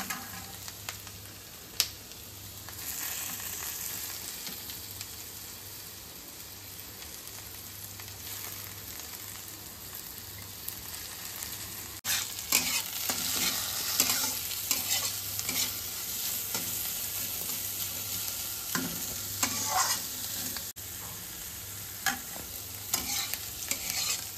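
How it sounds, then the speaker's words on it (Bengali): Red and green capsicum fry with onions in a pan for egg chowmein, producing a long, quiet, steady sizzle with frequent scraping and clattering stir strokes that grow busier partway through. "এটা হালকা ফ্রাই হলে তারপর আমি চাউমিনটা, ডিমটা পুরো এর মধ্যে দিয়ে ভেজে নেব।"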